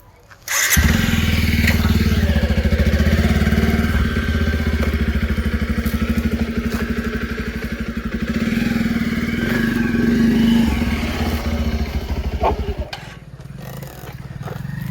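A motorcycle engine on a village road nearby runs loud and steady with a chugging idle and revving, then cuts off near the end.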